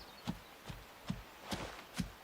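Soft, evenly spaced animal footsteps in an elk hunting video game thud five times at a slow walking pace, fairly quiet against a hushed background.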